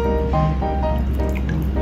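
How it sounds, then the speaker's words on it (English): Water pours and trickles into a pan with oil and soy sauce as a steamed egg is prepared in a kitchen, a close, continuous splashing fill with bubbly dripping tones and no talk. "Add water."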